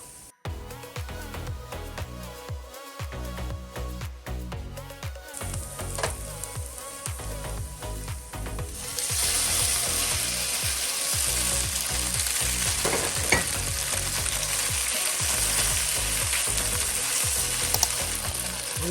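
Ginger and pressed garlic sizzle steadily in a pan while the aromatics for General Tso's tofu are cooked. Scraping and stirring clatter runs through the first half, then the frying grows into a louder, dense hiss that continues alone to the end.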